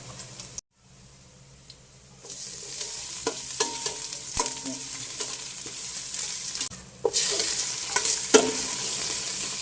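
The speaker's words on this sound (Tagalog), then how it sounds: "Gigisa na tayo ng bawang. Ayun, gigisa-gisa lang muna natin. Sunod na natin dito yung sibuyas." Garlic and then onion sautéing in a pan for pork sinigang, a steady frying sizzle with scattered stirring clicks; it drops out briefly near the start and grows louder toward the end, with no voices.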